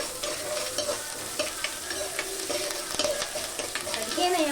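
Ginger, garlic and cumin paste fries and sizzles in a pan for a chicken fry, with a steady crackle and occasional scrapes of stirring throughout, and no voices.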